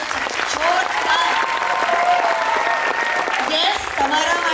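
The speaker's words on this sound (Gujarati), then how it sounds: "જોરદાર તાળીઓ છે, જોરદાર." An audience claps loudly and continuously after a dance performance at a Navratri-style stage show, a dense, even wash of applause from a large crowd filling the whole moment.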